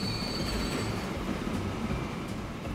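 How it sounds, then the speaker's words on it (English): Freight trains hauling stone in the video game Transport Fever rumble steadily along the track, a dense continuous roll of rail noise with faint wheel squeal on top and no talking. "we have two trains bringing stone to the dam west, and two trains bringing stone to the dump north"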